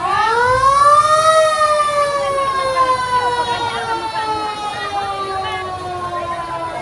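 A fire truck siren wails during a house fire in Santa Lucia, Pagadian City, one long loud tone rising then slowly falling and fading as the truck passes close by.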